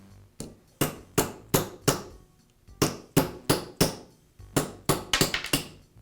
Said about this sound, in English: to tap the bearings out.